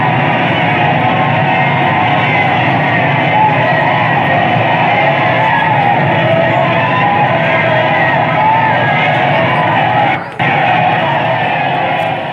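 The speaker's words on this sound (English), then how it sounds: "The crowd, enraged by Antony, now cries for the blood of Brutus, Cassius, and the other conspirators." Stage-play crowd from a school annual-day performance of Shakespeare's Julius Caesar, enraged and crying out: a dense, sustained wall of yelling and bellowing voices filling the whole stretch, loud and unbroken apart from a brief dip near the end.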